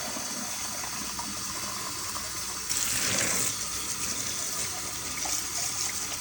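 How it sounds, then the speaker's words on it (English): Canned beans being rinsed under running tap water, a continuous close splashing flow that grows louder and fuller midway as the stream hits the beans. "So we're just going to rinse them."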